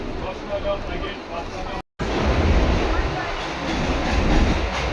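A passenger train travelling heard from inside a carriage, with a loud, steady rumbling roar and rattle throughout, briefly cut off, and voices murmuring in the background.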